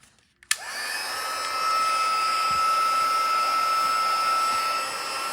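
A handheld heat tool blasting steadily to melt and set embossing powder on a winter thank-you card, starting with a click and then holding a loud, even whirring hiss that rises a notch partway through.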